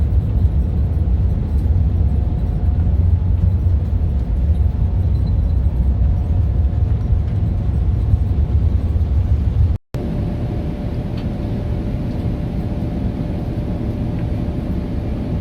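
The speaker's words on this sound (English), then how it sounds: "So I tried to video the takeoff from the center row." A JAL Boeing 787-9 taking off, heard from a center-row seat inside the cabin: a loud, steady, deep engine roar with a faint whine runs throughout and drops out for a split second near the end.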